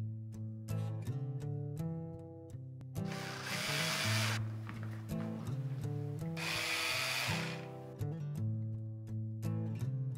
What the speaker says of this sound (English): Drill your first hole at the pilot indent of the center point